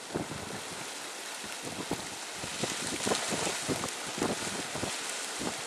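Wind gusting steadily around a small vertical axis wind turbine at cut-in speed on a rough-weather day, a continuous broadband rush with rising buffeting and fluttering pulses, loud and close to the microphone.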